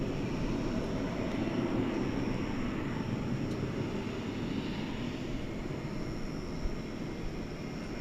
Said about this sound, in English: other long-distance aircraft getting ready to head out to foreign lands.